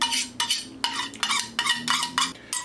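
Homemade Catalina dressing is scraped from a container into a bowl with a spatula in repeated short, close scraping strokes about every half second, with light clinks of the utensil against the dish.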